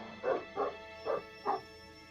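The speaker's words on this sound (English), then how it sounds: "I think I know how we can clear the dogs out quickly." Dogs in the Fallout 3 video game bark in four evenly spaced, moderately loud woofs, alone without talk, over a faint steady game background hum.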